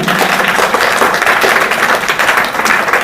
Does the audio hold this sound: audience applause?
yes